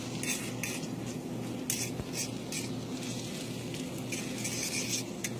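Egg cooking in a pan for an omelette, a soft continuous sizzle under repeated light scraping and tapping of a utensil moving the egg around, close and moderate in level.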